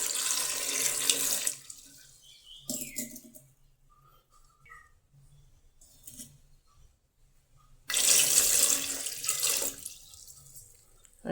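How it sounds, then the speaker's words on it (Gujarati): Water gushes from a tap into a pressure cooker holding cut potatoes in two loud bursts, with a quiet pause of faint drips and clinks between them. "પછી આપણે તેમાં બટેટા ડૂબે એટલું પાણી નાખીશું"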